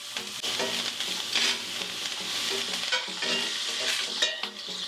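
Butter, thyme and garlic sizzle and crackle steadily in a hot pan with lamb chop lollipops, loud and close, with occasional stirring bursts and no talking.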